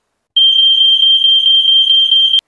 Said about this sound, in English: The complex has 2 types of fire alarms.